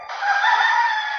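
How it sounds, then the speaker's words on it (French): A single loud rooster crow rings out alone, one sustained tonal call lasting just over a second, up close and clear. "Non, le coq."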